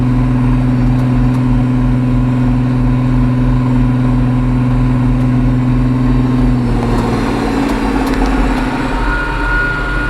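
A loud John Deere 5075E tractor engine drones steadily at full speed from inside the cab, a deep sustained hum with a strong low tone that shifts slightly near the end.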